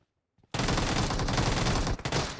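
Gunfire in the mobile battle-royale game PUBG Mobile, likely from an M4 rifle: a sudden, loud, sustained burst of rapid automatic shots after a brief quiet start, with a short break near the end before the firing resumes.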